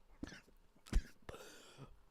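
A person coughs close to a microphone in short bursts during a live football watch-along, with a few rough coughs spread over about two seconds.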